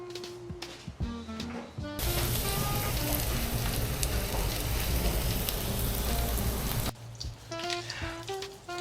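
Food sizzling hard in a hot pan in a home kitchen, a loud continuous crackling hiss that swells for several seconds in the middle, with quieter frying and clinks on either side.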